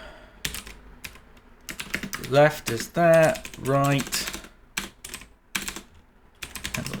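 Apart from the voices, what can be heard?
typing on a computer keyboard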